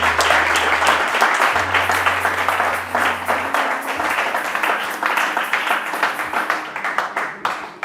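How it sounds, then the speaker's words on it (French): A church congregation applauds the Lord with sustained, dense clapping from many hands, loud and steady throughout before thinning slightly toward the end, with a low hum underneath. "Est-ce que tu peux acclamer le Seigneur de grâce?"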